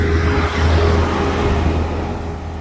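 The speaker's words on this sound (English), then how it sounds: "I'm gonna let this truck pass" A truck passes on a road beside a bicycle repair spot, making a loud, steady engine rumble and tire roar that fades gradually as it moves away, with no voices.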